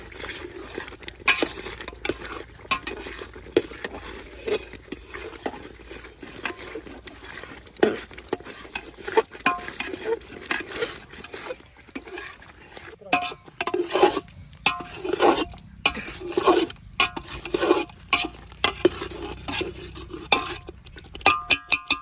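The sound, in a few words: stirring palak paneer in a pot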